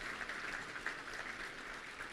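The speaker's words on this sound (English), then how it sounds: "I think that's worth a round of applause." A round of applause from a luncheon audience at the Little Rock Touchdown Club, steady clapping heard faintly and at a distance throughout.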